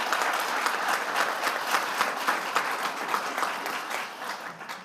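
Dense, sustained applause from a school governing board meeting audience for an award winner, even and continuous throughout with no voices, tapering slightly at the end.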